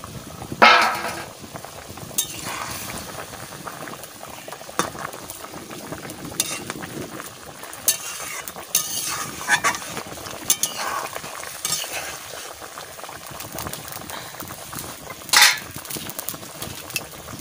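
Fish goes into a pan of simmering liquid for a home-style fish tarkari and is stirred, with bubbling, soft sizzling and occasional clanks and splashes from the spoon, close and moderately loud.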